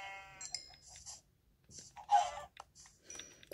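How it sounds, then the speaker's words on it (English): Sheep in the Minecraft video game bleat in a few short, close cries separated by quiet gaps, with faint game clicks and no talking. "Okay, some sheep."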